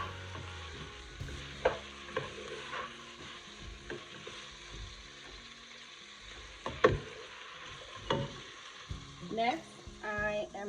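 Onions soften in a pan for tomato soup, giving a quiet, steady sizzle. Occasional stirring scrapes and knocks from a utensil against the pan break through at irregular intervals, all close but faint, with no voices.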